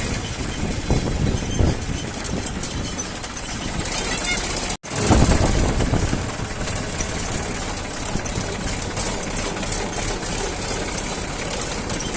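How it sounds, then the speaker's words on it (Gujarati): A tractor engine chugs steadily while people ride on it, a loud continuous rumbling drone with a brief dropout partway through before the engine noise returns just as strong. "અત્યારે અમે નીકળી ગયા ટ્રેક્ટરમાં બેસીને"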